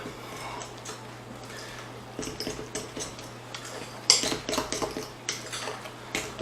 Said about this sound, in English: we're going to just stir it gently. We don't want to overdo it.